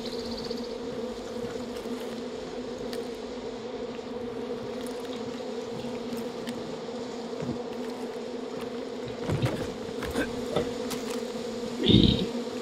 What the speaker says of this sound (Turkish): Allah arı kovanı.